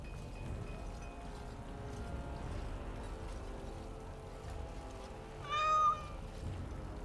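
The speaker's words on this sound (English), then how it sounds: "look at the cute little kitty" A cat meowing in the fantasy video game Dragon Age: Origins - Awakening: a single short, clear meow rises near the end over quiet, steady ambient game background, with no speech.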